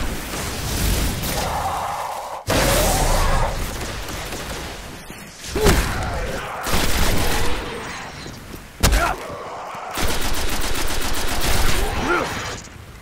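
Loud gunfire fills a Destiny video game match, with rapid automatic bursts and heavy single shots coming in several long volleys separated by sharp cuts and brief lulls, with no one talking.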